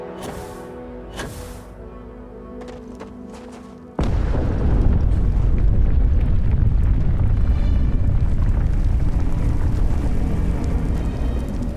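A sudden deep boom in the Starfield video game erupts into a long, loud, sustained roaring rumble, like an explosion or earthquake, after a few quieter thuds.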